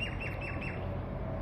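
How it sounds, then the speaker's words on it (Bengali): A distant bird in Bangalore repeats a quick series of short, falling chirps, faint over a low steady background hum. "কি সুন্দর পাখির ডাক শোনা যাচ্ছে"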